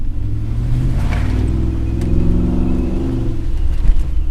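A Ford F-150 pickup's 5.0L V8 rumbles with a deep, steady low drone, heard from close by, its engine note rising slightly partway through without sharp revs.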